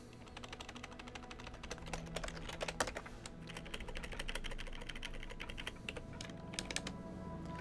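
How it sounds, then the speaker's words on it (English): Rapid continuous clatter of a computer keyboard, dense keystrokes close up at a steady pace over a constant low background hum. "While I'm typing it up here."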